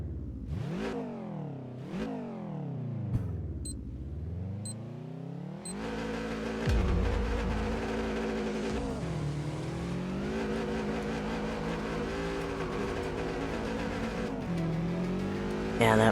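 Race car engine in the driving game Touge Shakai, revving through rising and falling pitch sweeps, then holding a dense, loud drone with shifts and brief tire scrub as the car corners on a mountain course.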